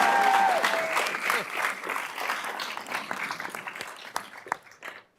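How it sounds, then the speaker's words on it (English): Audience applause fills a county commissioners board meeting, dense steady clapping from a crowd that gradually thins into scattered claps and fades out near the end. "Please, let's give her a round of applause."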